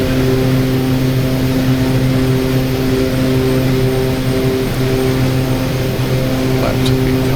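OV-10 Bronco twin-propeller aircraft climbing after takeoff in the DCS combat flight simulator, a loud continuous droning engine and propeller roar with steady tonal hum throughout.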